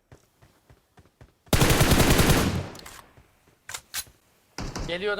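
Gunfire from the PUBG Mobile video game: a dense, loud automatic burst of about a second, followed by a few scattered single shots, with short speech before and after.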